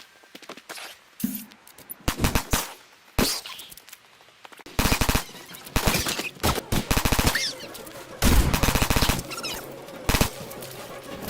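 Gunfire in the video game Fallout 4 during a fight with raiders: irregular bursts of loud shots and rapid volleys separated by brief silences, all close and sharp.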